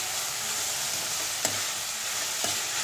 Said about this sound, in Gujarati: તો મીડિયમ ફ્લેમે આપણે કોબીજ ડુંગળી સાતરીશું બંને.